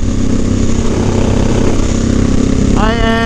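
A Honda 1100 Sabre motorcycle cruising on the highway, a loud steady engine drone with heavy wind roar throughout, and a brief rising tonal whine near the end.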